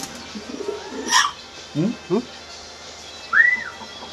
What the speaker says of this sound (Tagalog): Ayun yung kalapate